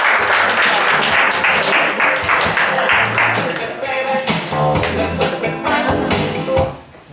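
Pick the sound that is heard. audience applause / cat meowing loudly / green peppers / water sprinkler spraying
audience applause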